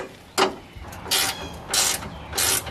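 Four short ratchet bursts, evenly spaced, tighten a strap holding gear on a service truck, close and clear with no talking.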